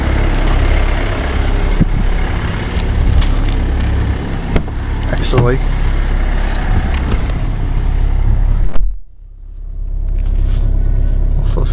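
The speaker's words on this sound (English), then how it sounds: "Yeah, the engine's in fast idle mode." A diesel car with just under 8,000 miles runs at a steady fast idle after a cold start in sleet, a continuous low rumble that briefly drops out near the end, with a short spoken word over it.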